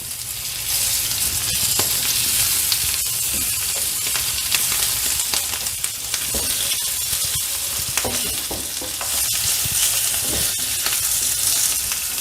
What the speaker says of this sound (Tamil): இந்த மாதிரி நம்ம அடிக்கடி வந்து திருப்பி திருப்பி போட்டு அதை ஃப்ரை பண்ணிகிட்டே இருக்கணுங்க